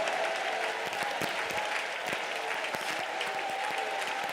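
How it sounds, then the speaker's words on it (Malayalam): A church congregation at a Sunday service claps steadily and loudly together, a dense sustained applause with a rhythmic beat running throughout. "ശക്തിയോട് കൈയടിച്ച് ദൈവത്തിൽ സ്വതന്ത്രം പറ"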